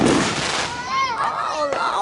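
Small Fourth of July fireworks, including little rockets, crackle and whistle close by, with rising and falling whistles and a brief pop near the end, while people talk over them.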